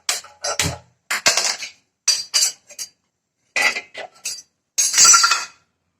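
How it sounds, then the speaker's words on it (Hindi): A metal kadhai is set down on a gas stove while sesame barfi is being made, producing a few sharp, close metallic clanks and clatters separated by silence. "और कढ़ाई रखती हमने अब गैस पे"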